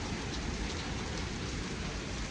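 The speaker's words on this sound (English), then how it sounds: "Definitely got a lot of rain with it." Heavy rain during a storm on a homestead pours down steadily, a dense close hiss of drops striking surfaces with a deep rumble underneath.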